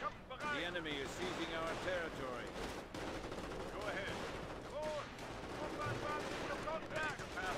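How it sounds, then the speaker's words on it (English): Machine gun fire in a video game comes in dense bursts of rapid shots under steady battle noise and overlapping speech, with sustained automatic firing through the whole stretch. "Yep, there's a machine gun."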